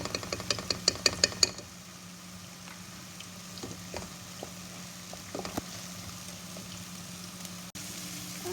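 Onion and tomato fry in a pan, with a quick burst of clinks and scraping at first, then a low, steady sizzle and occasional soft stirring noises.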